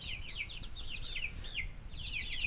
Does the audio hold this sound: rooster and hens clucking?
yes